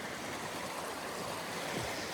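A creek swollen after rain rushes fast past the listener: a dense, steady roar of churning water, continuous and fairly loud, with nothing else standing out.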